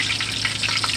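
Southern cornbread batter frying in hot grease gives a dense, continuous close sizzle and crackle, loud and steady.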